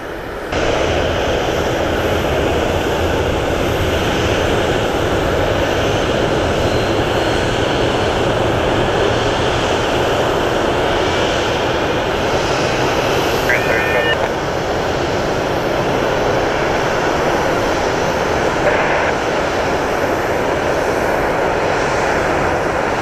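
Loud, steady roar of Southwest Airlines Boeing 737 jet engines at Columbus Glenn Airport, continuous and close, with no break in the droning rumble throughout.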